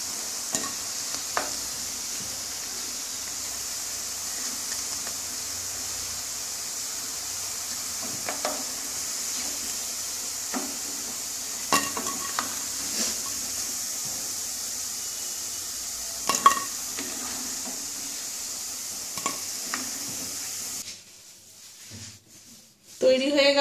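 Moong dal pitha deep-frying in plenty of oil, a steady hiss and sizzle with occasional clicks of stirring and utensils, ending with a brief clatter.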